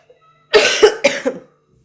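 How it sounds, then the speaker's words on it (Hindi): Several sharp coughs in a quick burst, close and fairly loud, with silence on either side. "और ये खांसी पीछा नहीं छोड़ दी।"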